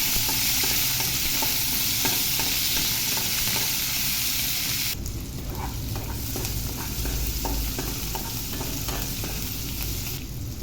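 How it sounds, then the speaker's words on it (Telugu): Thinly sliced medium onions fry in a pan with a steady, loud sizzle and crackle, broken by occasional stirring scrapes, with no talk over it. "ఇప్పుడు ఉల్లిపాయ పచ్చివాసన పోయే వరకు వేగనివ్వాలి."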